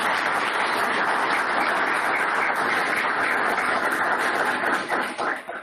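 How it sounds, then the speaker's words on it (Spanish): An audience at an Andbank investment conference applauds speaker Luigi, with dense, steady clapping that carries on evenly before thinning out and tapering off near the end. "Un aplauso, por favor, para Luigi"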